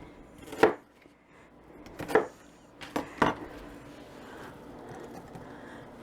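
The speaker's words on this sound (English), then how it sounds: "just a rough chop" Knife chopping roughly on a cutting board for a lemon chicken dish, four sharp, fairly loud thuds spaced irregularly across the first half, then quiet room tone.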